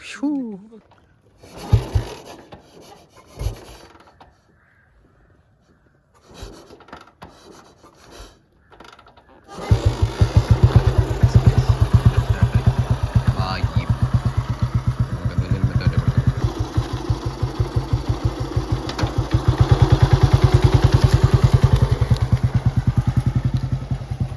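A 1950 Royal Enfield Bullet Model G2 motorcycle engine kicks over after a few quiet, scraping moments, then settles into a loud, steady single-cylinder thump that holds close by and swells near the end.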